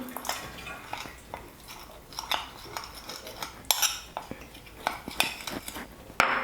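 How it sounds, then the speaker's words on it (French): A spoon clinks and scrapes against a pan while a mixture with a little water is stirred, irregular metallic taps and rattles up close, with a sharper clatter near the end. "Je mélange bien"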